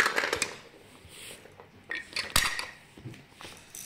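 A baby pulls apart a wooden Hape stacking pyramid, giving a few sharp knocks and clacks of wooden rings against each other, close and fairly quiet, with one louder clatter midway and no talk.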